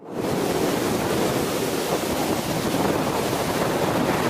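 Strong, cold wind roars continuously across the microphone on a hillside trek in Munnar, a loud, dense, unbroken rush with no talking.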